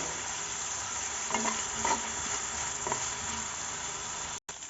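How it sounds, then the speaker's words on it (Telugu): Cumin, black pepper and fennel seeds fry in hot oil with a pinch of salt, giving a steady, close sizzle throughout, with a few soft stirring scrapes and a brief dropout near the end. "జీలకర్ర మిరియాలు సోంపు ఇవన్నీ వేసేసి మనము ఆయిల్లో ఫ్రై చేసుకోవాలి"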